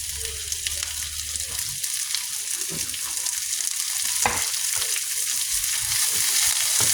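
String beans hit a hot frying pan for pinakbet and sizzle steadily, with occasional stirring clatter over several seconds.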